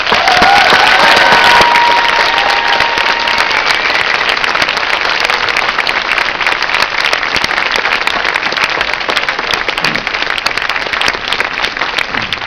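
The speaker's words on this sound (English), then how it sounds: "I ask that you show your appreciation to them in the customary way with heartfelt" Sustained, dense applause from a large graduation ceremony audience, loud and steady throughout, with no talk over it.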